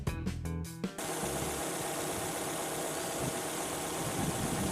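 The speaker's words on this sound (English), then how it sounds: "Now let's listen to the engine run." A car engine, freshly repaired with an epoxy adhesive seal, idles steadily with a low, even rumble after a few brief clunks at the start, close and continuous with no talking.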